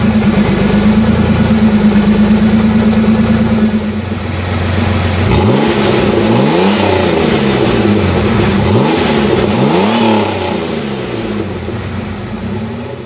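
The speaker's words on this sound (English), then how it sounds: "let's start those engines" Car engine revving, loud and close: a steady idle drone, then several sharp rising revs that fall away, repeated in a rough rhythm.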